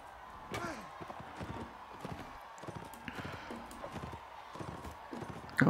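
A horse gallops in the video game Mount & Blade Warband, a steady run of quick hoof clip-clops under game ambience, with faint impacts and someone talking quietly over it.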